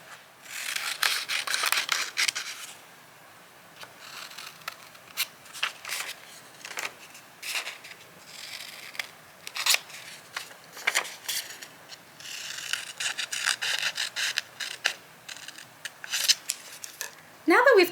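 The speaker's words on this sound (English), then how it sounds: "we're going to start out by cutting along these dotted lines with our scissors" Scissors snip through paper repeatedly in short crisp bursts, close up, with pauses between runs of cuts and a quiet background.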